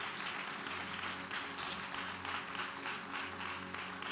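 A church congregation applauding and cheering the Lord, a continuous dense wash of clapping from a large crowd at moderate distance, steady throughout.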